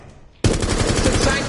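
Loud, sustained automatic gunfire from a PS4 shooter game bursts in suddenly after a quiet moment and rattles on continuously to the end.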